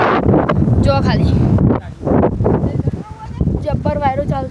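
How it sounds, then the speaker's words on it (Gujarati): Strong wind buffets the microphone along a farm path near a village temple, a loud low rumbling roar in gusts while someone talks over it. "જબ્બર વાયરો ચાલશે"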